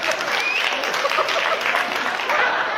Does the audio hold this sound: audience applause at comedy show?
yes